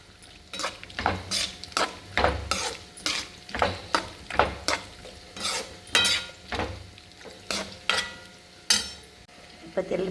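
A spoon scrapes and clanks around a pan while gobi manchurian sauce is mixed, sharp repeated strokes at an uneven rhythm over a faint sizzle, close and clear.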